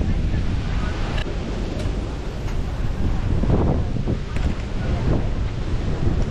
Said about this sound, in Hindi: तो आप देख सकते हैं यहाँ हवा बहुत अच्छी चल रही है,